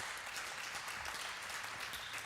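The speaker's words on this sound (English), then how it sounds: "you can clap for that." An audience at a Shavuot midrash gathering clapping steadily, a dense, faint wash of many hands held at a low, even level throughout, with no talking.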